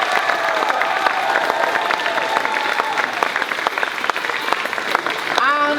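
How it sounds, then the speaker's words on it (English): An audience applauds at a choir concert, sustained dense clapping mixed with some crowd cheering and a voice speaking over the noise, steady throughout. "please give them also a huge round of applause"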